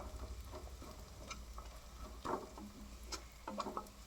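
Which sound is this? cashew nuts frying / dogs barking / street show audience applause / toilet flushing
cashew nuts frying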